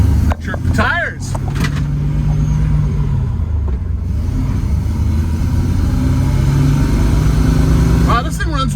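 A 1965 Ford Mustang with a 200 inline-six and a T5 five-speed conversion drives along, its engine droning steadily and shifting pitch as it pulls through gears, heard from inside the car with someone talking over it.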